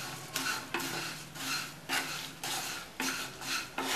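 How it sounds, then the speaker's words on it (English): Flattened rice (poha) being stirred and fried crisp in a hot skillet, with repeated bursts of scraping and rustling sizzle in an uneven rhythm, close and moderately loud, no voices. "Fry it for 4 to 5 minutes and they will be ready to serve."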